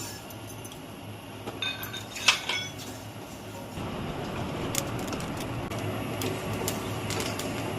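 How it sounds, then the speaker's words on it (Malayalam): Fenugreek seeds for an Andhra-style tomato pickle dry-roast in a pan after mustard seeds, first as sparse small clinks and ticks, then as a steady soft crackling hiss, close by with no talking. "ഇനി ഈ വെന്തയം ഇട്ട് കൊടുക്കാം"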